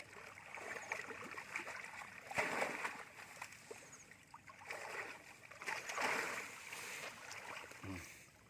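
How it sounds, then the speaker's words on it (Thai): A male tusker elephant plays alone in water, throwing up two heavy bursts of splashing and sloshing between quieter stretches of lapping water, with rustling outdoor ambience around it. "สไตล์ของเจ้าวายุเล่นน้ำดูงาจะไปชนต้นยุคาเขาลูก"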